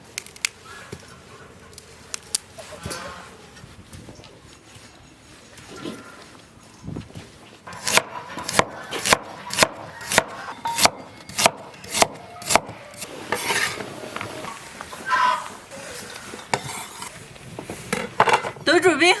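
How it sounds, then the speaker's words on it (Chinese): A knife chops broccoli and carrots on a wooden cutting board in a home kitchen, a run of sharp, evenly spaced close taps after quieter rubbing and handling sounds, with some talk mixed in. "再给切的放点西兰花和胡萝卜"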